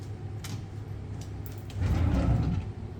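A drawer sliding open in a hotel room, with a few faint clicks and knocks followed by a louder rumbling scrape of the drawer running out, close and without any voices.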